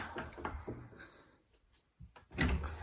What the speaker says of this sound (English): So the door's open